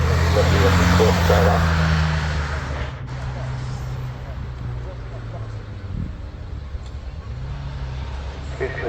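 An Alfa Romeo car pulls away up the Prescott hill climb, its engine loud and rising at the start, then fading into a steady distant drone over wind and crowd murmur.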